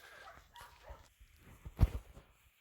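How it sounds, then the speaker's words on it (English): Village dogs in Greece's Peloponnese bark faintly at a distance, a few scattered yips and barks with one sharper, louder bark near the end, amid quiet outdoor ambience. "these village dogs follow me everywhere I go."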